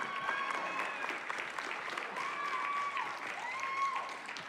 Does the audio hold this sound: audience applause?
yes